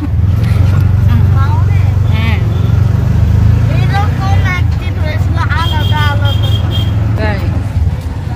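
A CNG auto-rickshaw engine drones loudly and steadily while riding on a road in Sunamganj, Bangladesh, a low rumble that never lets up, with people talking over it throughout.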